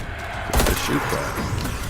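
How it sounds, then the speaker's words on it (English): Gunfire in a zombie shooter video game: a loud burst of rapid shots cuts in after a quieter half-second and keeps crackling and echoing close by to the end. "Let's shoot that."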